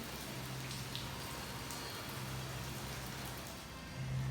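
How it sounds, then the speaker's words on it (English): Rain falls steadily at Epcot during the Flower & Garden Festival, a continuous soft hiss with faint droplet patter that swells slightly near the end, with no one talking. "the rain has started."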